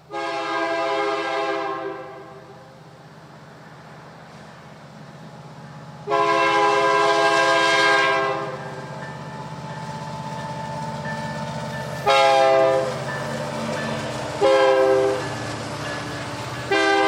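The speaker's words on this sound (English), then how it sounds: "we catch a northbound mixed freight with a clear shot to the north" A northbound mixed freight train rumbles past near the Shreveport yard on the CPKC main line, its horn blaring in a long blast, another long blast, then two shorter ones over the steady rolling roar of the cars.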